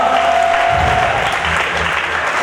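Church congregation applauding the Lord in a loud, dense burst of clapping that holds steady throughout, with a low voice briefly audible underneath.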